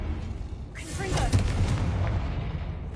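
A Confringo fire spell goes off in Hogwarts Legacy as a sudden booming blast that rumbles on for a moment. Magical swooshes and crackles sound beneath it.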